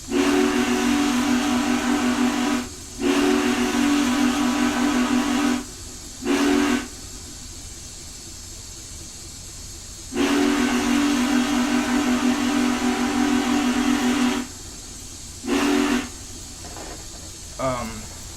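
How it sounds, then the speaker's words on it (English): Steam whistle of a Union Pacific 844 steam locomotive in Train Simulator, sounding in several long loud blasts and a couple of short toots against a steady hiss of steam, with brief quieter gaps between. "Oh, whistle again."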